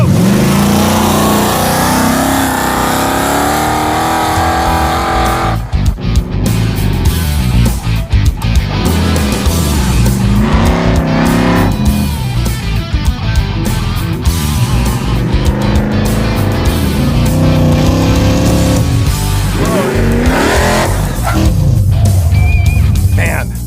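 Project car engine revving hard during a race run, a loud continuous roar with surging pitch changes as it accelerates, while voices talk over it.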